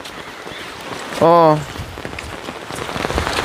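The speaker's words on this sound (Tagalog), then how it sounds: "tingnan mo, lumakas ang ulan tapos medyo may fog" Heavy rain pours steadily in a forest with some fog, a dense broadband wash, broken by a short sung-out vocal exclamation near the middle.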